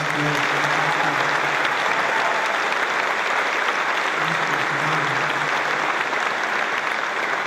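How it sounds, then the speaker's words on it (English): Troops at an air base in Qatar applaud continuously, a dense, steady clapping from a large crowd sustained throughout, with faint voices mixed underneath. "we want to be give a little special applause to somebody that's been so good"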